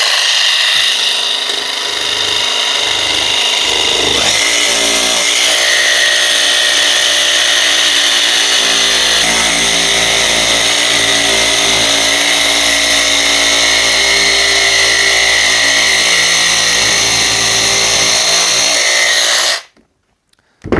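A jigsaw with pendulum blade action, held upside down, cuts through a composite decking board in a loud, steady whine lasting about twenty seconds, opening with a brief start-up and ending in a sudden stop.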